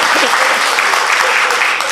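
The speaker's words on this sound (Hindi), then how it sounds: "जोरदार ताली बजाओ भाई" Loud, dense audience applause at a live Rajasthani comedy show, continuous and close for the whole stretch, with a voice faintly calling out over it.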